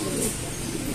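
A pigeon coos in a pet shop selling birds: a soft, low coo sits under a dense wash of background noise in a short moment.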